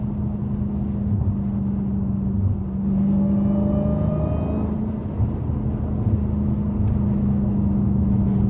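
A Dodge SRT Hellcat accelerating hard, a loud, deep engine drone heard from inside the car, with a rising whine climbing through the middle, a brief dip, then sustained heavy rumble.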